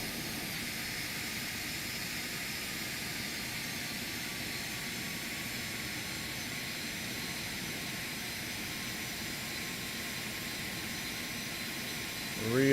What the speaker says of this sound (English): I'm just going to let the airplane kind of roll to a stop.